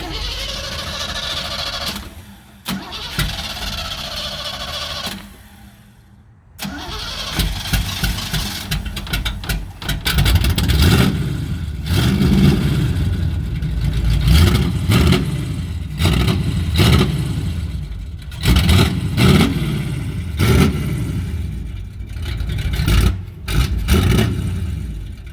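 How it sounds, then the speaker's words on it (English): A 1977 Pontiac Trans Am pro street V8 with a low idle, running rich and stumbling, cranks and struggles to start, then idles unevenly and is revved in rough bursts, loud and close throughout. "fire up the 77 and just kind of show you it's got a little hesitation, and I think the idle's just way too low"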